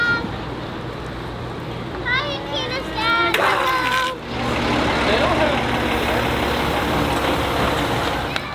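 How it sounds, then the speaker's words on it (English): Kids play and ride bikes outdoors at a busy weekend campground, their voices and squeals rising and falling against a steady wash of traffic and outdoor noise. "There's kids on bikes everywhere."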